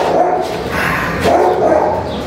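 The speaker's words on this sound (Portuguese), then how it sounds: "os cachorros latindo ali também" Dogs bark and yip in the background, a steady mix of barking under general noise, while a woman praises a female dog.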